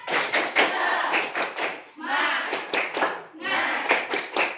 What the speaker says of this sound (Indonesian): Oke, anak ibu tepuk semangat.